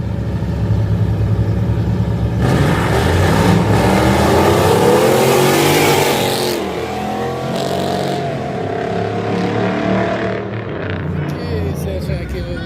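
A fast Dodge truck at a street race roars loudly nearby, its engine revving and accelerating hard with rising and falling pitch as vehicles pass, with crowd voices mixed underneath.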